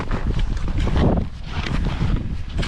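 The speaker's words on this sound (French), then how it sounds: "Petite bise qui s'est levée là, ça rafraîchit." Steady wind gusts blowing across the microphone outdoors in snowy Yukon backcountry, a continuous loud rumbling whoosh that swells and dips throughout with no voices.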